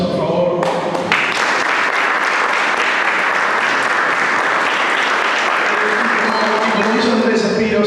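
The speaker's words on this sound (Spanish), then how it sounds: "a Julián Burley y a Susana Morel para que nos pidan un nuevo aplauso, por favor." Audience at a tribute event in a national library breaks into loud, sustained applause, dense and steady for several seconds after a brief quieter start.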